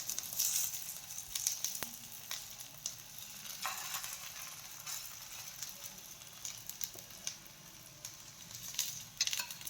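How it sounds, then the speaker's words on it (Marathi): Pea cutlets shallow frying in oil in a pan, a faint, soft sizzle with scattered light pops and crackles, heard alone without speech. "तर आता आपल्याला यामध्ये कटलेट फ्राय करून घ्यायचे आहेत।"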